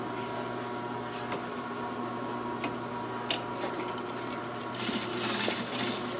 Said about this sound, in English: So I'm stitching right next to the stitch that was already there through all the layers.